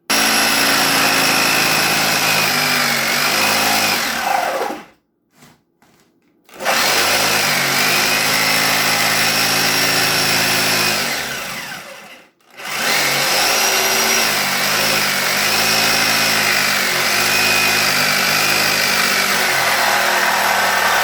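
A power tool cutting a circle out of plexiglass, a loud, close, continuous high-pitched whine with two short pauses where it stops and restarts, and no talking.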